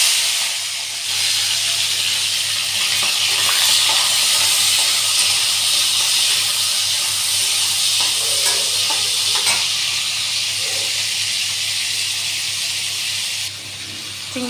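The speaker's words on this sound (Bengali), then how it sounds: "তেলটা গরম হয়ে গেছে। এবার আমি দিয়ে দেব চিংড়ি মাছগুলো।" Shrimp fry in hot oil as a loud, continuous sizzle and steamy hiss close by, steady for the whole stretch and easing slightly near the end.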